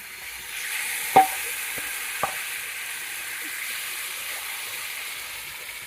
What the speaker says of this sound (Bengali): মাছগুলো আমি দিয়ে দেবো।